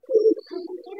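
A Giribaz pigeon gives a short, soft, low coo nearby, two quick throaty phrases close together in a quiet coop with no one talking.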